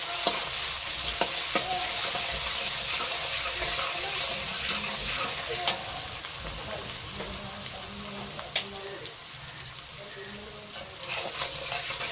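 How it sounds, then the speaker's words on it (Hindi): Chicken pieces frying in hot oil with salt for a homemade restaurant-style chicken karahi, a constant close sizzle with occasional crackles and stirring scrapes running steadily throughout. "इस बकिया ऑयल में हम चिकन ऐड करेंगे"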